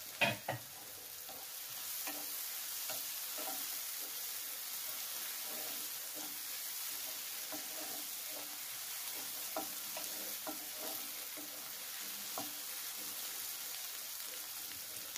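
Mushrooms fry slowly over low heat in butter and garlic, a steady, soft, even sizzle that runs throughout with a few faint stirring scrapes at the start.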